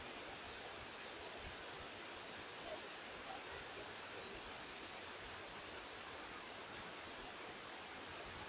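Steady, full rush of a cascade at the top of the first of the Hérisson waterfalls, a dense continuous roar of falling water close by with no breaks.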